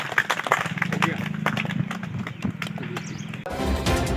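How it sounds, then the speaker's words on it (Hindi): Audience at a political gathering clapping for the Prime Minister, a dense patter of hand claps with talk and background murmur throughout, swelling louder near the end. "माननीय प्रधानमंत्री जी ताली बजाइए।"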